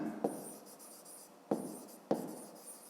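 Pen writing on paper for a fifth-grade maths exercise, three sharp taps of the pen touching down, each followed by soft scratching strokes, close and quiet.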